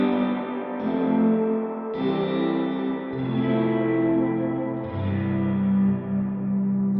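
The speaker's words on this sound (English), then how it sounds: "try and create like a very narrow bandwidth reverb sound" Sustained guitar chords ring through a narrow-bandwidth dynamic hall reverb on a Line 6 Helix, each new chord blooming into a long, washy, echoing tail that swells and decays, with no talking.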